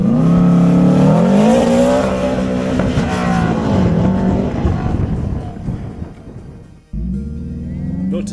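A VW Beetle fitted with a rear-mounted Subaru Impreza STI engine of about 250 horsepower accelerates hard, its loud, close engine note climbing in pitch through a gear, then dropping at a brief shift before pulling again.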